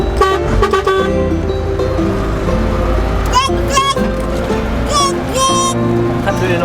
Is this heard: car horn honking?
yes